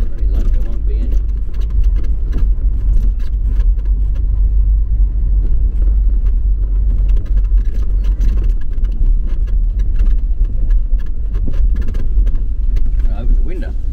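Talbot Express camper van on a test drive over big bumps, with a steady, loud low engine and road rumble and occasional knocks from the bumps throughout.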